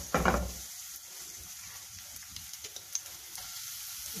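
Chopped onion hits hot oil in a frying pan for potato chicken cutlets, a loud burst of sizzle that settles into a steady crackling fry with small pops.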